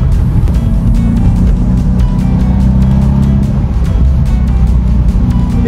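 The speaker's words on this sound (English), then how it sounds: "this car for sure with this engine is the sound of the exhaust. It's still rumbly." A 2020 Mercedes-Benz C63 AMG engine and exhaust accelerates hard with a loud, steady, rumbling roar that holds close and continuous throughout, with no talk over it.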